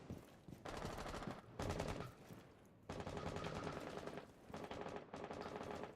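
Automatic rifle fire from a Rainbow Six Siege esports match, several rapid bursts of gunshots separated by short pauses, loud and close with no talking over them.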